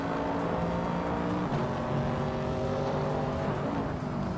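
Racing cars including a vintage 1968 Pontiac Firebird, engines droning at a steady high pitch with shifting tones as they run laps, loud and continuous without talking.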